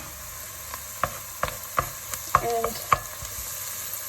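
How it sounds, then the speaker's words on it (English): Garlic sizzles in a hot frying pan alongside onion and chicken fond while a utensil stirs and scrapes it in a handful of sharp, close clicks over a steady frying hiss; a voice briefly speaks. "So now I'm adding my garlic."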